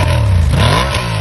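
Honda XL 570 Transalp motorcycle engine revving, a loud close mid-pitched drone that climbs and shifts in pitch over a little more than a second, with no voices.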